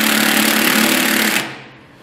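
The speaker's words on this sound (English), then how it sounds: "Take our 7/8 socket, we're going to tighten it down." A power impact wrench drives a 7/8 socket to tighten a bolt while installing a suspension bushing, a loud continuous buzzing rattle of about 1.4 seconds that stops abruptly and leaves a short fading ring.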